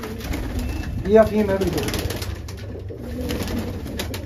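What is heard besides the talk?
pigeons cooing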